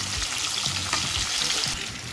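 Potatoes frying in a pan with turmeric, a steady close sizzle with soft scraping and stirring thumps from a spoon, brief and moderately quiet.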